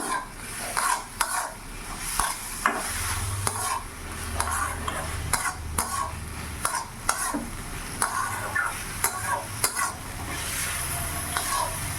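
Poppy seed paste with onion stalks is stirred in a frying pan on a gas flame, a steady sizzle under repeated scraping and clinking of the spatula against the pan, loud and close without talk.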